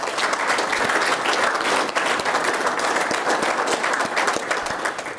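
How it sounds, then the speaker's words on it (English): Applause at a Yankton city commission meeting, a roomful of people clapping steadily and fairly loudly for about five seconds, with scattered individual claps standing out and no speech over it. "So I'd like another round of applause for him if we could,"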